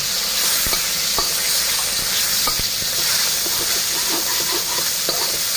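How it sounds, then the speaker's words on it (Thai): Steady loud sizzling of minced and sliced pork frying in hot oil in a wok, with occasional scraping and tapping of a utensil stirring in the pan, close up. "ตั้งกระทะให้ร้อนใส่น้ำมันลงไปใส่หมูสับหมูชิ้นของเราลงไปเลยค่ะ"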